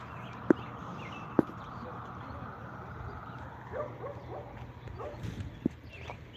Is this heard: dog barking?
yes